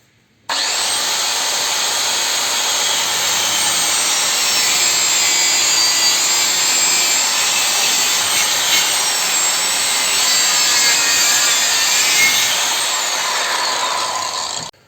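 A Ronix 4311 circular saw cuts through a 10 cm thick wooden block, giving a loud, steady, high whining roar that holds for about fourteen seconds, with no other sound.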